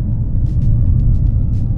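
A Chery Tiggo Cross CSH hybrid SUV pulls away under steady acceleration, a smooth continuous low rumble with no gear-shift breaks, heard from inside the cabin.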